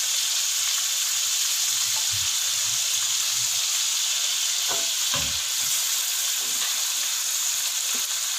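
Arvi gosht, mutton and taro, fries with salt, red chilli powder, ground coriander and turmeric in a pan, making a steady loud sizzle and hiss with a few faint stirring knocks.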